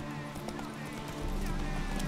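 The horse Roach gallops in The Witcher 3, its hooves clip-clopping in a quick, steady rhythm that grows heavier and closer partway through, over a continuous game ambience.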